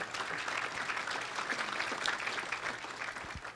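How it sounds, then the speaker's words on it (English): Audience applause in a sports hall of fame ceremony hall for a baseball coach, a steady wash of many hands clapping at moderate loudness throughout. "please clap for him"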